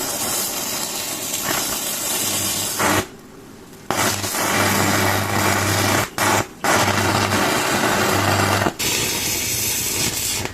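Spark ZX7-400 welding machine cutting through and melting a rod, a loud continuous crackling hiss with sustained droning hum, cutting out briefly several times and resuming, close and with no talk.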